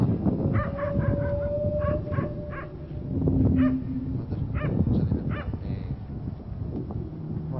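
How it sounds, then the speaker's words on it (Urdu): A dog barks and yips repeatedly at a distance in a dangerous outdoor area at night, the calls scattered over a constant rustling, hissy background. "دیکھیے بھونکنے کی آواز کے ساتھ سرسراہٹ"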